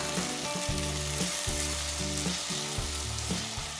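Onion, ginger and garlic paste sizzles steadily in a pan, a dense continuous frying hiss with no voices over it.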